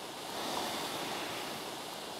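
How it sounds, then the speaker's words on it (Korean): Strong sea waves crash and surge in a steady, loud broadband roar at a rocky island coastline, with no speech, continuous for the whole stretch. "여기는 아우 완전히 너무 센 파도다"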